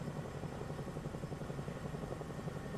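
The Airwolf helicopter from a video game, in flight with a steady, fairly faint rotor chop and engine drone that continues evenly throughout.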